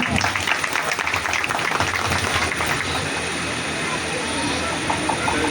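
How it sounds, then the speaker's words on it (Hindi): An audience at a church gathering applauds to welcome Sunday school children, a sustained, moderately loud clapping wash with voices mixed in and a steady background hum. "आप सबकी जोरदार तालियों में।"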